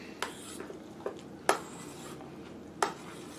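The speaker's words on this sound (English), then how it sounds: "Then you just stir it up" A utensil stirs a mixture in a bowl, giving a few sharp clinks and taps against the sides spaced irregularly over a quiet background, four distinct knocks standing out.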